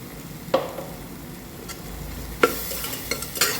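A spoon stirs masala powder into beef and Chinese potato curry in a pot, giving a few soft scrapes and light sizzles against a quiet background, with no talking.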